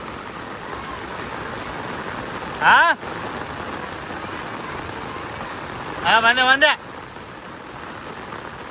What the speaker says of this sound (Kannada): ಭಾಳ ಜೋರು ಐತಿ ಮಳೆ